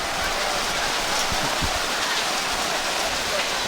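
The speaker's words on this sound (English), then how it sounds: "Now it is just a monsoon, folks. This is a downpour." Heavy rain pours down in a downpour at a high school football game in Ohio, a loud, dense, constant roar of water with a few low thumps and no voices over it.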